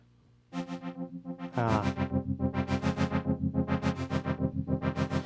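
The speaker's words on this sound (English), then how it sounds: "And now that sound is being controlled by the arpeggiator." A bright synth on a Casio Privia PX-S3000 plays a steady, rapid arpeggiator pattern of repeating notes with auto-pan over a sustained pad, pulsing evenly with no voices.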